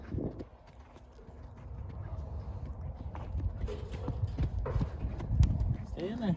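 A buckskin horse being moved into a pen steps along with soft, irregular hoof clops at close range, mixed with shuffling movement and some background voices.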